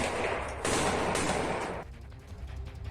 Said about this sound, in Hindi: कादिरोव ने जो वीडियो जारी किया उसमें उनके लड़ाके यूक्रेन की सेना पर ताबड़तोड़ गोलियां बरसाते दिखाई दिए थे।